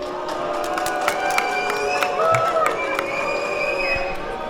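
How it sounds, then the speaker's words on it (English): Protesters booing Israel's Minister of Tourism at an opening ceremony: a loud, sustained crowd roar with scattered whistles and shouts, steady throughout with a dense mass of voices. "The protesters are booing the minister who's about to speak."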